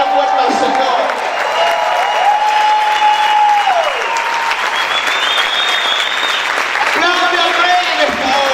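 Congregation at a church service claps and cheers loudly throughout, a dense roar of applause with shouting voices and singing rising above it.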